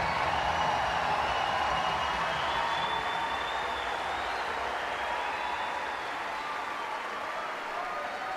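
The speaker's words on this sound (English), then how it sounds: "And just listen to the crowd." A tennis crowd at the 2020 Adelaide final between Ashleigh Barty and Dayana Yastremska applauds and cheers, a loud, dense, sustained roar of clapping and voices that fills the whole stretch and eases slightly toward the end.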